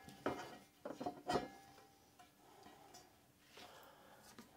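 A fringed decorative dish is set down on top of a stacked dish arrangement for a New Year surprise, giving a few light, close clinks and knocks in quick succession before quiet handling.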